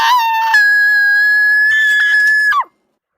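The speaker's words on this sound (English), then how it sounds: "I'm gonna scream. Very loud." A man lets out one very loud, close, sustained scream at a steady pitch that rises in strength, then breaks off sharply into silence.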